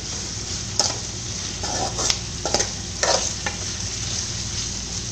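Two chopped onions sauté in a pan for a Kerala beef ularthu, giving a steady close sizzle broken by several stirring scrapes and clinks, with no voices.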